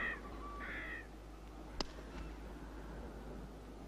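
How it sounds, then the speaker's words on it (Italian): A crow caws twice, clear and mid-distance, over a low ambient hum, followed by a sharp click, as part of the layered sound mix of a Sergio Leone film soundtrack. "una cornacchia."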